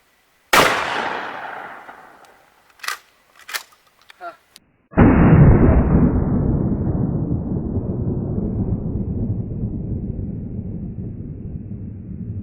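A 12 gauge shotgun fires Rio Royal 00 buckshot outdoors: one sharp, loud blast with a long rolling echo, preceded by an earlier report fading out and a few brief clicks of handling.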